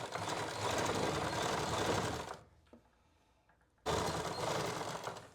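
A sewing machine stitches along the shape of a garment neck in two loud, steady runs, broken by a short quiet pause with a few small clicks before it starts again.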